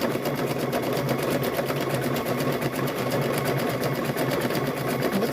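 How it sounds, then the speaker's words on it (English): A sewing machine stitches steadily around the edge of an apron, its fast, even needle rhythm running close and loud without a break. "So now we're going to stitch all the way around this."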